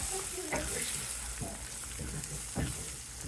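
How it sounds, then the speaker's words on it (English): Ham and scrambled eggs frying in a pan give a steady close sizzle, broken by a few soft scraping stirs as the eggs are worked around; no voices. "Cracked in a couple eggs, scramble them in the pan, let them cook a little bit"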